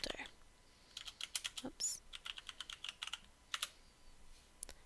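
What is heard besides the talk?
typing a folder name on a computer keyboard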